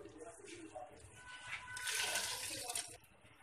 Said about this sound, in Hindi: साथ ही इसमें 1 गिलास पानी ऐड करूंगी जिसमें दाल अच्छे से गल जाए